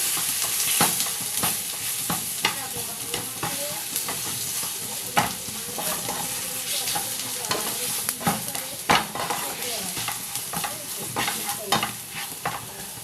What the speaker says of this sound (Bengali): এক চামচ ধনে গুঁড়ো এক চামচ হলুদ গুঁড়ো দিয়ে এবার মশলাটাকে কষিয়ে নিতে হবে ভালো করে